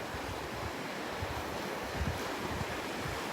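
Ocean waves wash steadily onto the beach at Delnor-Wiggins at high tide, a constant broad rushing surf mixed with gusty wind buffeting the microphone, with no one speaking.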